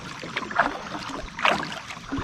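A kayak paddled upriver in the early morning, with soft rhythmic paddle strokes dipping and swishing through the water about once a second over a low background of wind and river ambience.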